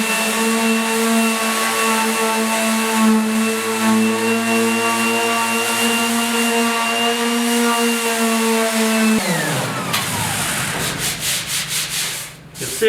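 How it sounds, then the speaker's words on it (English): Palm sander fitted with 80-grit paper working filler on a car floor pan, a steady loud buzzing whine with strong harmonic hum that runs for about nine seconds, then cuts off and winds down into clattering scraping noises. "just use a palm sander with some 80 grit"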